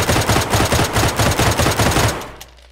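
Rapid automatic gunfire rings out in DayZ: a loud, close burst of evenly spaced shots, roughly a dozen in quick rhythm, stops abruptly and leaves a short fading tail. No one speaks.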